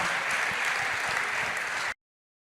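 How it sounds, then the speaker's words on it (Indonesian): Sustained applause from an audience at a book launch for a biography, dense even clapping that carries on loudly and then cuts off abruptly. "Boleh sekali lagi tepuk tangan paling meriah untuk Najwa Shihab dan Denny Sumargo."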